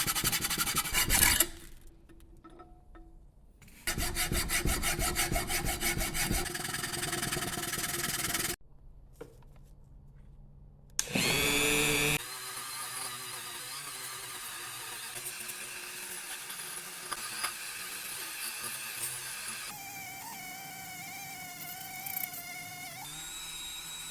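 Cast aluminum gingerbread figures are sanded: close, scratchy rasping in loud bursts separated by brief pauses, then a steadier, softer abrasive whine.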